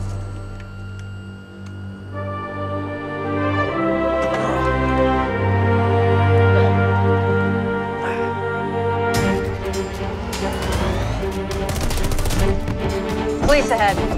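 Gunfire sound effects in a superhero action music cue, sharp bursts layered over sustained orchestral tones that grow denser and louder in the second half.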